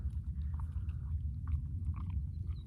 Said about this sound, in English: he seems so content just to find grass and just munch on it